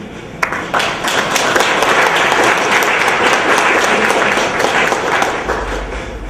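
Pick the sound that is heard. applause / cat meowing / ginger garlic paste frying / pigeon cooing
applause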